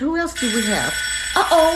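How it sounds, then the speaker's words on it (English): A timer or alarm rings at a hair-coloring session, a steady electronic tone sounding under a voice as she talks over it. "that's the alarm"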